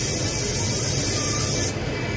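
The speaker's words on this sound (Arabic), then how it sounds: "وبعدين هنضغط على البلف ده، الجزء ده زي بلف كاوتش العربيه" Refrigerant gas hisses steadily from a pressed refrigerator service valve, a continuous broadband spray that cuts off abruptly near the end, leaving quieter background.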